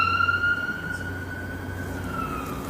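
A siren wails in a long, slowly falling tone over a steady low engine hum, fairly close and continuous.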